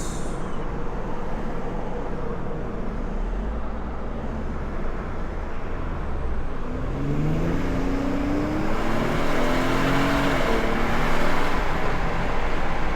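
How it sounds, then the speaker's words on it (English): Turbocharged engine of a 2026 Ford Explorer ST-Line RWD under hard acceleration, heard from inside the cabin as a steady road and engine roar that swells, with rising engine tones climbing through the gears. "you floor it, and I don't want to say it struggles, because it doesn't feel like it struggles, but you can tell that the turbo there is like pushing this engine"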